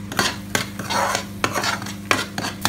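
Coriander and cumin powder roast in oil for Kashmiri dum aloo, with a spoon repeatedly scraping and tapping the pan at close range and a soft sizzle underneath.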